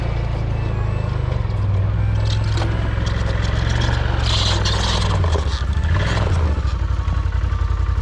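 A small snowcat engine idles and runs steadily in a snowy backyard terrain park, a continuous low rumble with some scraping and clanking over it, fairly close.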